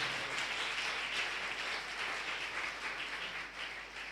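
A church congregation applauding together, steady continuous clapping heard at a distance and fairly faint, with no voices over it.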